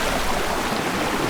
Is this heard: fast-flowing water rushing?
yes